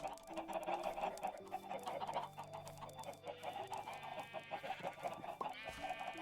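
Chickens in a Minecraft nest, video game, clucking almost continuously, layered overlapping clucks and short calls at moderate, fairly quiet level with no talking.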